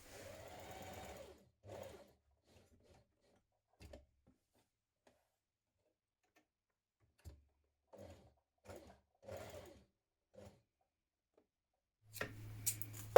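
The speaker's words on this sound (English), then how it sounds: "we're going to stitch around that V here" A sewing machine stitches around the V of a blouse facing in quiet, short stop-start bursts with long silent gaps, ending in a slightly louder run.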